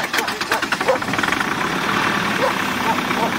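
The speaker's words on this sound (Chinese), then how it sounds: "能明显听到发动机带马达带动发动机那个声音" A diesel engine, left out overnight at minus 40 degrees with the parking heater not yet warming it, cranks laboriously on its starter in rapid pulsing strokes, loud and close, then settles into a rough continuous run.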